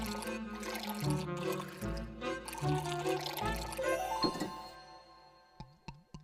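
Liquid is poured into a cup in a glugging, trickling stream against a musical background, then it stops and a few sharp knocks follow near the end.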